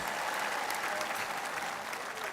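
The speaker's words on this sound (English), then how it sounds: "let's give them a round of applause" Sustained applause from a large crowd at the Knicks championship parade in New York City, steady and dense throughout, with a loud wash of clapping and scattered cheers.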